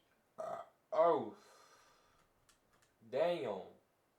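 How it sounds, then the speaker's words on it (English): A person burps aloud at close range, two short voiced belches near the start followed by a longer one after a pause, with faint clicks in between. "Burp."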